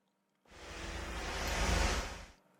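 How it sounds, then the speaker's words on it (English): A whoosh effect swells in from silence, a broad airy rush that builds steadily, peaks loud near the end and cuts off quickly. "A whoosh sound."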